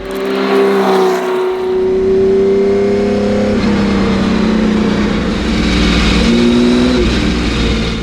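A Porsche 917K race car's flat-12 engine fires up and revs loudly nearby, its pitch climbing and dropping through several throttle blips over a deep, rasping idle, with no talking.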